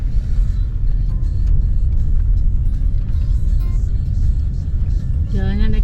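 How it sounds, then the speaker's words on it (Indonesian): A car passes on an uneven, potholed road in Minangkabau, Sumatra, heard from inside a vehicle on a road trip as a loud, steady rumble with a brief whoosh, while people talk over it. "Ada mobil."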